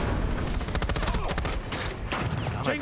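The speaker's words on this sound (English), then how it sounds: "Not able to fully land those shots, putting pressure from Breach" Rapid gunfire in a competitive Valorant-style esports match, a quick burst of closely spaced loud shots followed by a few scattered reports, with game effects in the background.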